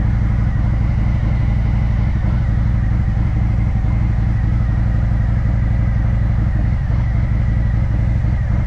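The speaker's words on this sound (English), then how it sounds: "Gotta love that nice cold start with my Chromeworks 2x2 full Eclipse" Harley-Davidson CVO motorcycle with a Chromeworks 2x2 full Eclipse exhaust idling loudly after a cold start, a steady deep rumble with uneven lumpy pulses throughout, close and alone with no talking.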